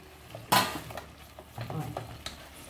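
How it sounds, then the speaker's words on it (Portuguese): Ground beef with chopped tomatoes, bay leaves, onion and small bell pepper is stirred in a pot, a spoon scraping and clanking against the metal over a soft sizzle, one sharp knock standing out. "Olha, vou misturar."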